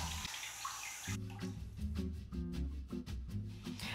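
Water runs and splashes steadily in a home shower, a close, continuous hiss that shifts in tone partway through as the stream is interrupted, with low humming tones beneath.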